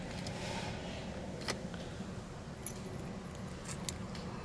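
Car keys jangle in the ignition of a Mercedes-Benz, light metallic clinks and a few sharper taps over a steady low background hum, with no talking.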